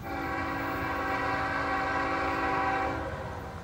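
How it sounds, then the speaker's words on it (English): A train horn from a train with distributed power units in Eaton, Ohio blares loud and close in one long steady blast, cutting off near the end over a rumbling wheel roar. "here we go, comes the train"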